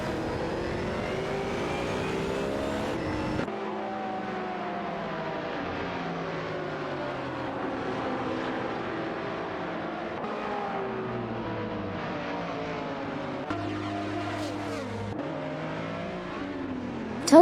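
Race cars, including a Ferrari F430 GTC and Dodge Vipers, roar continuously through a video game race, with engine pitch rising and falling as the cars shift gears and pass one another.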